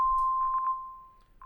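A plain sine wave tone from the Arturia Pigments 3 synth holds one steady pitch, joined by a few short staccato blips of the same note, clean and alone with no voices.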